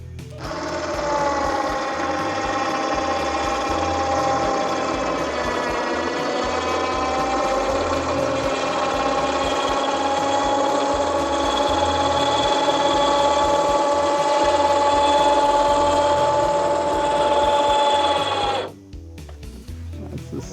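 Motorized winching system raising or lowering the automatic roof of a South African canopy camper, a steady whirring motor hum that runs for about eighteen seconds and then stops abruptly.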